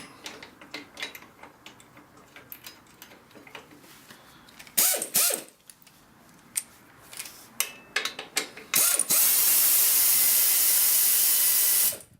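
A ratchet wrench snugs down a pair of bolts, 50mm and 40mm, giving repeated quick clicking bursts with mechanical clatter, followed by a long steady hiss near the end.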